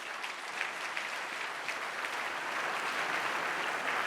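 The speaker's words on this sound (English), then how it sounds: "Can you please give a big round of applause to my panelists" An audience applauds the panelists at the end of an opening plenary panel, a full, steady wash of clapping that holds even and continuous from start to finish.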